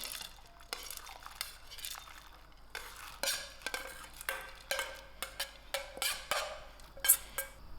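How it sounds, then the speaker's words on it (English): Washed gram dal being added to a pot to boil, with close clinking and scraping against the metal pot and repeated stirring knocks in an uneven rhythm, moderately loud, with no talking. "To this pot I'm going to add in my washed gram dal to boil."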